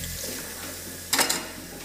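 Water splashes briefly over the plastic splash guard of a Jura Giga X7 coffee machine as it is rinsed, a short burst of running water at a sink over steady low background hum.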